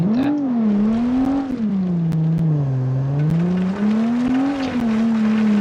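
An open-diff lifted vehicle in BeamNG.drive spins its wheels without grip, the engine droning steadily and wavering up and down in pitch, with brief clicks scattered over it and no talk.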